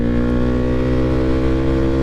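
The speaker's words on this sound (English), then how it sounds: "where you really noticed it is when you go wide open throttle. You're really going to hear an increase in the growl, that deep growl" A motorcycle with a Leo Vince exhaust growls at wide open throttle, a loud, steady, deep engine roar held close and continuous with no talk.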